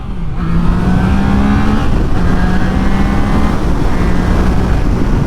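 A Triumph Trident 660 motorcycle engine revs loudly in second gear, its drone climbing smoothly and steadily over constant wind rush.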